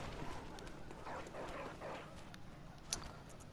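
In the Bloodborne video game, dogs bark in a few muffled, fairly faint yelps over a low background rumble, followed by a brief sharp hit.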